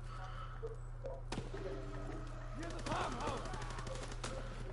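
Rapid-fire gunshots in Call of Duty WW2 online multiplayer, a quick rattling burst mid-clip and another volley toward the end over a constant low hum, moderately loud and close.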